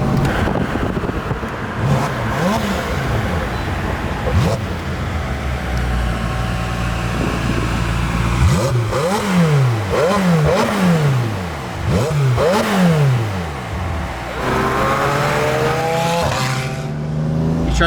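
McLaren 720S supercar engine revving hard in repeated rising and falling bursts during launch control attempts, loud and close, with a faint tire squeal.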